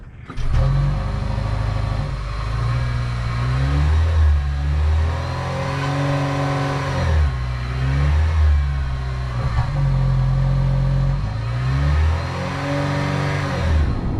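A Lexus RX 500h Performance engine revs up and shifts repeatedly, a smooth rising hum that climbs and drops in pitch several times, steady and close, with no talking.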